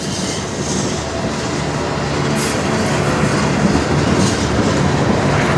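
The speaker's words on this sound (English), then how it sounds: "Obviously it's a chemical train." A CN chemical freight train rolls past near Sarnia, Ontario, with a loud, steady rumble and clatter of wheels on rail. The noise is continuous and close for the whole stretch, with faint squeals, and no voices.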